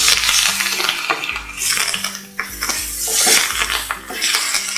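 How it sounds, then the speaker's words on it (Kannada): A spoon scrapes and clinks against a metal pan while mustard seeds, two Byadagi chillies and curry leaves are stirred in hot tempering oil for bele rasam. Rhythmic metallic knocks sit over a faint sizzle. "ಇವಾಗ 2 ಬ್ಯಾಡಗಿ ಮೆಣಸಿನಕಾಯಿ, ಜೊತೆಯಲ್ಲಿ ಕರಿಬೇವಿನ ಸೊಪ್ಪು ಹಾಕಿ ಒಂದ್ಸಲ ಎಲ್ಲ ಚೆನ್ನಾಗಿ ಮಿಕ್ಸ್ ಮಾಡ್ಕೊಳ್ಳೋಣ"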